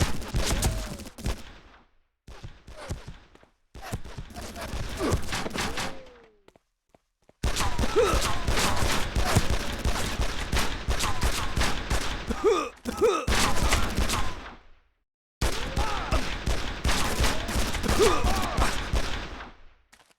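Gunfire from the Made Man crime shooter: dense, loud volleys of automatic shots in long sustained bursts separated by brief silences, with faint game voices underneath.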